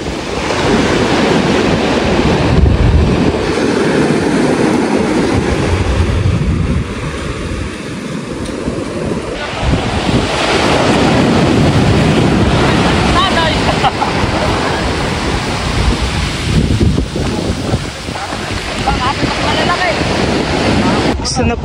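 Sea waves wash onto a beach in a loud, continuous roar that swells and eases, with heavy wind buffeting the microphone and voices faintly underneath.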